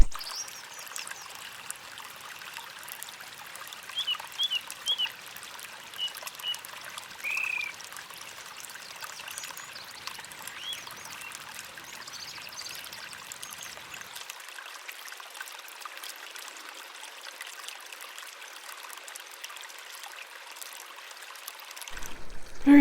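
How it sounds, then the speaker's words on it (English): Creek water flows steadily at a trail's dead end in Limekiln Canyon, a soft continuous trickle and babble close by, with faint birdsong above it and no voices. "Have a house by a creek, surrounded by nature, enjoy the sound of water."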